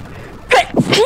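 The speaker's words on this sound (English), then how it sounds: "I'm going to sneeze, sorry." A person sneezes once close to the microphone, a sharp intake followed by a loud explosive burst and a brief trailing breath, with no other talk.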